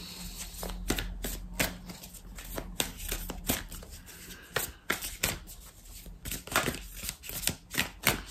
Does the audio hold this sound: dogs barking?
no